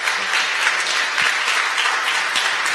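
An audience gives a speaker a loud, sustained round of applause, dense and even clapping from many hands filling the room without any voices.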